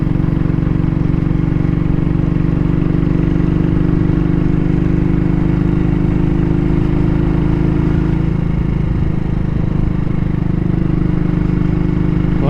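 A vintage motorcycle with a Burman gearbox climbs uphill in third gear, its engine droning loud and steady with a deep, constant throb. The note shifts slightly partway through as the bike labours on, with heavy wind and road rumble throughout.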